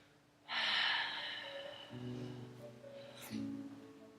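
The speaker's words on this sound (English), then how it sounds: "One more breath, inhale." A deep breath drawn in during a yoga class, a strong audible inhale through the nose followed by slower breathing and a softer second breath, close and alone.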